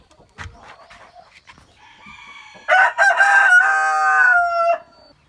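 Chickens cluck softly nearby, including two big hens, then a rooster lets out a loud, long crow that dominates before fading out.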